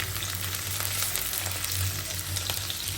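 Dried fish and eggplant fry in hot oil in a pan. A loud, continuous close-up sizzle runs throughout with occasional stirring.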